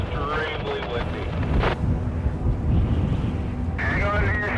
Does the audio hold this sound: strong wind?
yes